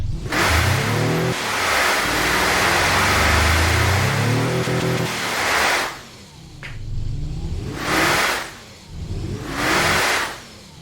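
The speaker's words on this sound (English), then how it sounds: "God, that turbo sound is insane!" In a driving video game, a turbocharged car engine revs hard in a long, loud roaring run, then blips sharply twice more with quick drops back to idle between.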